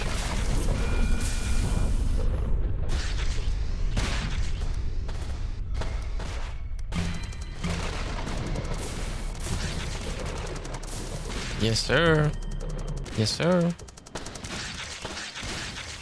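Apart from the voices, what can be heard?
explosions and tank gunfire in Roblox SCP Tower Defense video game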